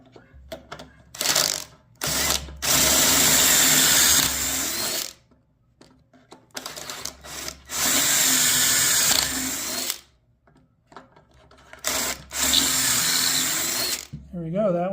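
A power drill bores holes in wood for a bathroom vanity in three loud, sustained bursts of a few seconds each. Clamping and handling noises fall between the bursts, and a person talks in the pauses.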